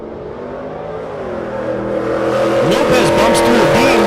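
A naturally aspirated 1999 Chevrolet Camaro makes a drag racing run at a mountain strip, its engine droning and building in pitch as it pulls away, loud and steady with a commentator's voice over it.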